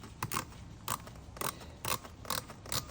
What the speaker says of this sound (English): now I'm just taking these screws out with a T20 Torx